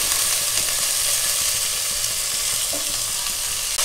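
Vegetables and beans are stirred in a hot pan for Schezwan noodles, a loud, dense, steady sizzle with faint rhythmic scraping beneath it.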